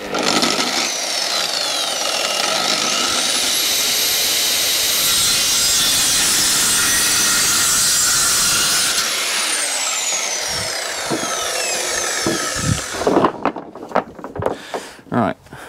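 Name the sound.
hand saw cutting wood for shed floor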